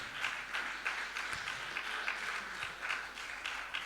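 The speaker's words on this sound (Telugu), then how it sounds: "ఉన్నవారు అందరం ఒకసారి చప్పట్లు కొట్టి దేవుని మహిమపరుస్తాం." A church congregation claps together in praise, producing a steady run of rhythmic hand claps at moderate volume. The clapping continues evenly with no speech over it.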